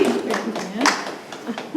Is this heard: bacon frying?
no